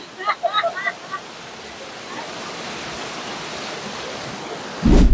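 Hiluan Falls waterfall, a steady broadband rush of falling water heard close, with a short spoken voice at the start and a loud thump at the end.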